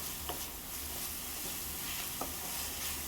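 Ginger, garlic, onion and cumin paste frying in a pan, a soft continuous sizzle with occasional scraping strokes of a spoon, quiet and close with no talking.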